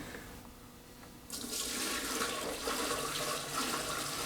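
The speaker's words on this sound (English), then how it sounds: "I guess if I pour this down this hole," Liquid poured down a hole into the tank at the bottom of a Harrison universal mill during servicing, starting after a quiet moment as a steady, close splashing gush that keeps running to the end.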